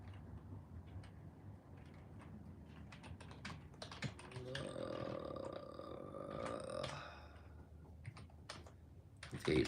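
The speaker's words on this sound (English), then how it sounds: "So I'll probably just type physics in here." Typing on a computer keyboard, a quiet, irregular run of soft key clicks with a denser burst midway, faint and close.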